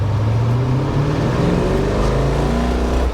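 A 1963 Ford Galaxie 500 with a big V8 accelerates hard, its engine droning low and steady and pitch climbing through a gear, loud and close from inside the car.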